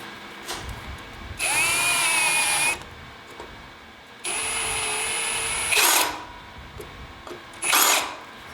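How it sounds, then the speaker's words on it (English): A power drill with a chamfer bit deburring holes in a motorcycle rear fender whines in three separate bursts of a few seconds each, the motor pitch rising and settling, with quiet pauses between. "Let me put on my chamfer bit so I can deburr the holes"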